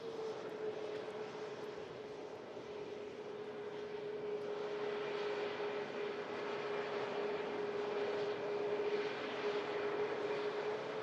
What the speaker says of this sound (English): It is quite hard to talk over an ATR.